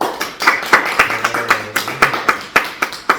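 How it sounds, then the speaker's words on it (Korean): An audience gives a round of applause, a brisk, loose burst of handclaps ringing out close and steady for a few seconds, with a faint voice underneath. "박수 한번 주시죠."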